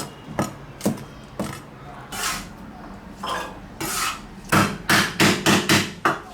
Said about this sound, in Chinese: 一阵乱剁